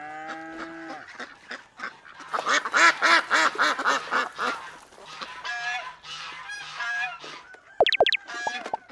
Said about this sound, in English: This is a duck with ducklings.